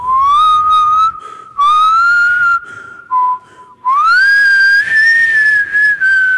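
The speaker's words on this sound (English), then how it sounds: "That's how I whistle." A person whistles a lively tune up close, in several loud phrases with short pauses between them.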